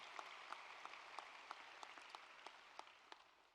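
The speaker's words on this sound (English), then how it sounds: "Round of applause." Faint applause from a graduation ceremony audience honoring Latin honors graduates, heard as a thin, steady patter of distant clapping with slightly sharper individual claps poking through.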